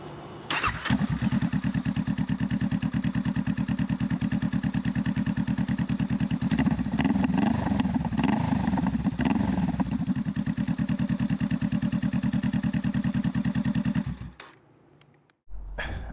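A 2023 Honda Rebel 500 motorcycle starts and idles close by, its exhaust giving a steady, thumping rumble with a few throttle blips before it cuts off near the end.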